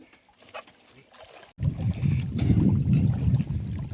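A boat's twin engines kick in abruptly, settling into a low, steady rumble, with wind buffeting the microphone, off a beach in Sibutu, Tawi-Tawi.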